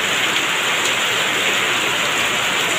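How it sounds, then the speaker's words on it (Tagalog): Heavy rain pours down in a dense, unbroken hiss, loud and steady with no voices. "napakalakas talaga ng ulan"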